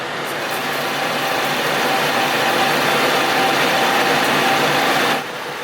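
Manual lathe taking a 40 thou cut in a machine shop, a steady broadband whir and hiss of the cutting pass holding even and fairly loud, then easing off near the end.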